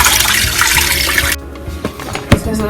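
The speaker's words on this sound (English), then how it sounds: "So now you got water with your seasonings in it. And just pour that over the chicken." Seasoned water poured from a container over chicken in a pot gives a loud, rushing splash for over a second, then stops, leaving faint drips and small knocks close by.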